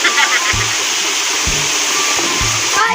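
Obo Falls pours in a steady broadband rush of falling water, close and loud, with a few short low thumps and faint voices underneath.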